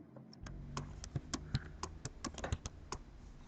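Quick, uneven keystrokes tapping on a computer keyboard while entering a spreadsheet formula, close and fairly quiet, with steady clicks and a few louder key hits, no talk.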